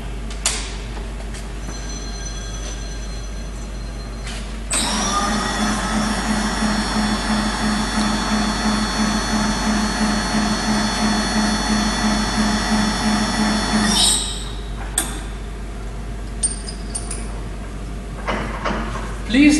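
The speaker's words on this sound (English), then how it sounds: "We do what we call pick drilling." A heavy drilling machine boring a hole in metal: its drone rises and holds for around nine seconds with a faint repeating tick, then drops back to a lower steady hum.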